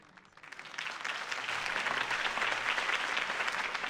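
Crowd applause in a city political rally scene from Batman: The Telltale Series video game, building from quiet to a steady, dense clapping that holds loud and continuous to the end.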